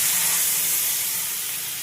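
Water poured into a hot pan of fried potato, onion, chilli and curry leaves in white oil gives a loud, steady hiss of steam and sizzle that eases slightly over two seconds, close by, with no voices.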